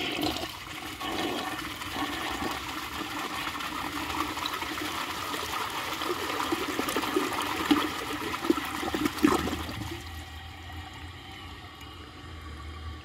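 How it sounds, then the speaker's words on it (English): A 1950 Case Camel toilet fitted with a Fluidmaster flush valve flushes in a steady rushing gush of water that runs for about ten seconds, then drops to a quiet refill trickle. "I am using a Fluidmaster flush valve because I don't have the original Douglas valve. So let's give this a flush"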